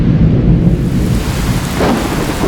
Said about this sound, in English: And then, boom, thunder.